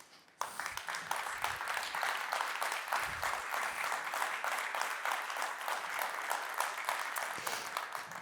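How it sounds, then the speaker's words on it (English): A conference-hall audience at a medical talk breaks into applause after a presentation, a steady, moderately distant patter of many hands that starts abruptly and carries on evenly. "You got a big round of applause here from the room."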